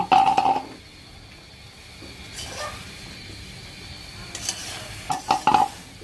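Rice being stirred in a cooking pot makes clattering scrapes at the start and end, with a soft sizzle and scattered clinks between them.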